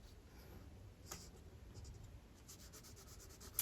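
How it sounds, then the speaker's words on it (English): A mailbox drawn on paper with a pen or marker: faint, scratchy strokes rise and fall for a few seconds in a quiet room, with no talk. "So I'm going to draw a mailbox."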